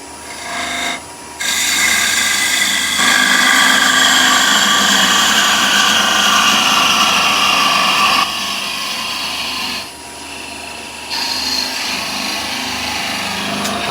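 A wood lathe spins while a tool turns a tenon, a loud continuous rasping cut with a steady whine, pausing briefly before resuming.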